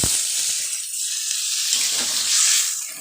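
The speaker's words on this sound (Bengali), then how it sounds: "আলুটা কষানো হয়ে গেলে জল দিয়ে দেবো।" Water poured into a pan of potatoes frying for egg curry hisses in a loud, continuous sizzling rush from start to finish, with a brief splash at the very beginning.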